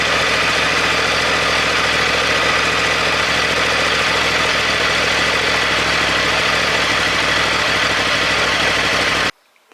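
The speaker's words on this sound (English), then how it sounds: "start it and let it run" A 2009 Yamaha R1 motorcycle engine idles steadily after an oil change, a loud, continuous, even running note with constant vibration for most of the clip, then cutting off abruptly near the end.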